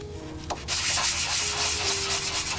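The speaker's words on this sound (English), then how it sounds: "Take the sandpaper," Sandpaper rubbed by hand across a motorcycle fairing, a steady, close, dry scratching that starts after a brief pause and continues evenly without speech.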